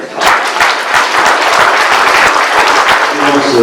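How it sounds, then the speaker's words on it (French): Loud, dense applause from an audience at a French-speaking gathering, starting abruptly and holding steady throughout. "je vous redemande de les applaudir"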